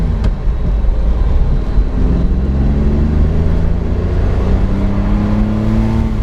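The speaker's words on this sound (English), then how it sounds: "There's the car coming there. Car's got a lot of pickup." A 1969 Chevrolet Corvair with fuel injection accelerates, its engine note rising through gears as it approaches, steady and fairly close.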